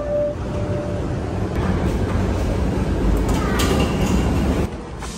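A commuter train runs from Journal Square in Jersey City toward New York. Its carriage gives a steady, loud rumble with faint clatter and occasional squeals, and the noise drops off near the end.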